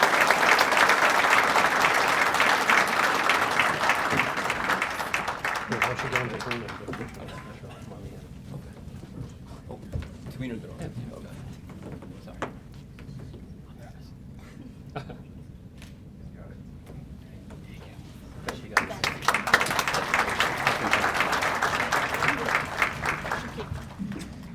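Audience applause at a police awards ceremony, a loud crowd clapping at the start that fades into a quieter room with some talk, then rises again into another strong round of clapping near the end.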